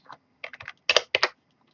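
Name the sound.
typing on a computer keyboard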